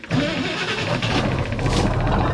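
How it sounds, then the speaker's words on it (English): A 1956 Chris Craft Capri boat's V8 engine with Edelbrock carburetors cranks and roars to life, settling into a loud, rumbling idle up close. "Now I'd say that's a pretty sweet running engine."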